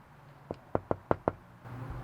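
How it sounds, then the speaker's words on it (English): Five sharp knocks on the door of the SimSeats headquarters and shop, loud and close, spaced in a quick, slightly uneven rhythm, with a low hum of room noise around them and no talk. "we're gonna go knock on the door"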